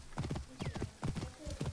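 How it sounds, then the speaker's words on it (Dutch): Rhythmic clip-clop of a horse's hooves at a fast gallop in the video game Assassin's Creed Origins, close and steady, with a brief whinny partway through. "dit paard is snel"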